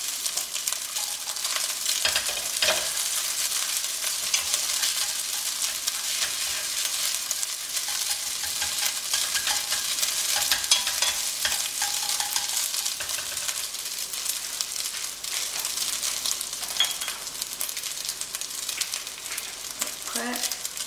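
Rice stir-fried in a pan over lowered heat gives a steady, soft sizzle with occasional scraping stirs, continuous and close for the whole stretch.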